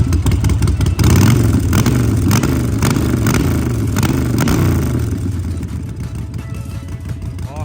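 A used Harley-Davidson 48 big bike engine revs loudly up close, a deep rumbling idle swelling into throttle blips before settling back down.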